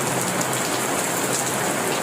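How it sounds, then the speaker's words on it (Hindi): Steady, dense monsoon rain pours down in Lahore, a constant close hiss of drops striking surfaces with no voices. "कहीं हल्की और कहीं तेज बारिश से मौसम भी खुशगवार हो गया।"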